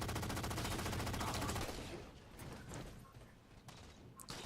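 Rapid automatic gunfire from a video game weapon hammers loudly for about a second and a half, then cuts off into a quieter stretch with a few faint clicks and distant shots.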